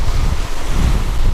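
Strong Mistral wind roars across the microphone while waves churn against the shore, a dense, continuous rumble and rush filling the whole moment with no speech.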